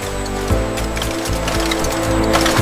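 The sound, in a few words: bottling machine tightening caps on coconut milk bottles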